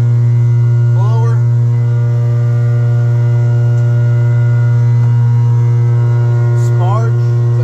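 Blower motor on an air sparge and soil vapor extraction skid during testing, giving a loud, steady electrical hum with no pauses, with two brief faint chirps over it.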